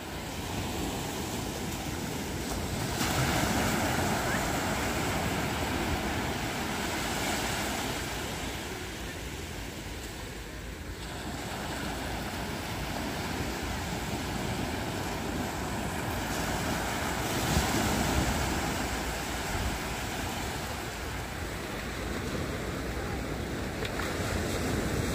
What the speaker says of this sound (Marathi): इथे येतोय लाटांचा आवाज